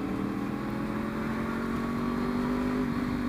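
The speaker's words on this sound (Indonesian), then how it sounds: "nih kita naik motor, kita naik moge gitu" A Yamaha R1 sport motorcycle on the move, its engine droning as a continuous loud, even hum with wind rush, the pitch holding steady with no voices.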